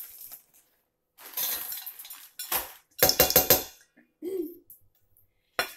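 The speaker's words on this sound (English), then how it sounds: "We're just going to stir in 1/2 cup of chocolate chips." Chocolate chips being stirred into bar batter in a bowl, a few short bursts of scraping and clinking from the spoon against the dish, separated by pauses, close and fairly loud with no talk.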